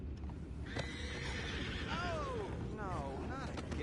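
Horses in Red Dead Redemption 2 whinny with rising and falling cries, several neighs in succession over steady clip-clop hooves and a low rumbling background, fairly close.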